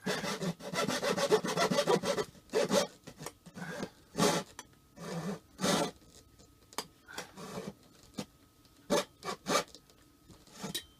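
Handsaw cutting wood to trim an opening for a convection microwave oven install in a Travato 59G camper van, in short irregular bursts of rasping strokes with pauses between, close up and with no talking.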